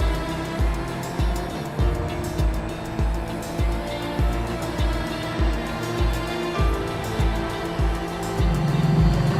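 A Super Formula Lights race car lapping Sebring in a racing game, its engine loud and close, repeatedly revving up through the gears with sharp regular shift cuts, tires squealing in places.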